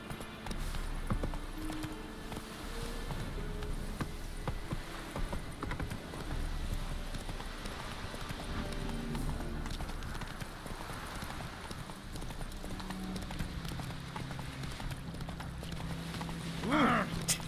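Horse hooves clip-clop steadily in The Witcher 3 as the rider travels, a continuous trotting rhythm layered over game music and ambient background sound.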